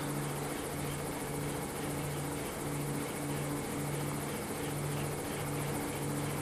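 Helicopter flying in the mobile game Gangstar New Orleans, a steady rotor drone with a pulsing low thrum and constant engine whine, loud and continuous throughout with no talk.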